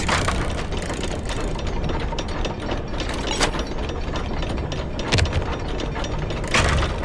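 Elevator machinery in Secret of the Mimic rattles and clanks through a ride, a continuous ratcheting mechanical churn with sharp periodic clunks and creaks, steady and fairly close.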